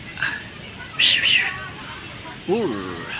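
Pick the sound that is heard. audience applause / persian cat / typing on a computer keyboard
persian cat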